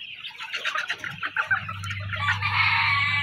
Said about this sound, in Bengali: দেখতে পাচ্ছেন অসাধারণ মুরগিগুলো।